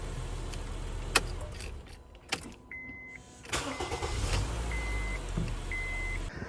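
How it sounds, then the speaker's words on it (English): A 2011 Honda Jazz 1.3 petrol engine idles steadily at a low, even rumble, with a few sharp clicks and brief mechanical noises over the top. "let's get this car running. Sounds nice and quiet."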